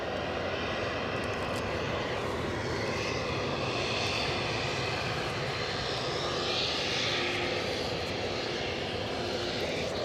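ATR turboprop airliner at Edinburgh, a loud continuous engine roar that stays strong from start to end with a slight swell midway.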